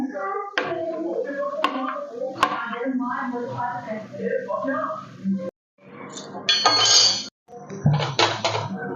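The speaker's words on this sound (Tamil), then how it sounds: "இட்லியை சின்ன சின்ன பீஸாக கட் பண்ணிக்கிடுவோம்" A knife cuts idli into small pieces on a plate, giving a run of sharp clinking taps against the dish with a brief pause. A person talks over the cutting.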